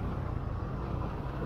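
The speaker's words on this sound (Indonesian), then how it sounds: "Ini truk besar-besar." Steady low engine rumble of large trucks passing in road traffic near a university campus, heard from inside a vehicle with the windows closed; a continuous, even drone with no talk.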